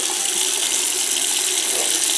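Hot water runs from a tap at low pressure in a house, a steady, even rushing splash that holds without pause throughout, with no voices.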